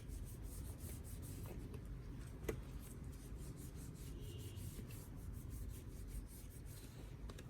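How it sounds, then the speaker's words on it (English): Faint, soft rubbing strokes of a cloth wiping anthurium leaves from top to bottom repeat quietly and closely against a low background hiss, with no speech. "wipe the entire surface of the Anthurium leaves from top to bottom"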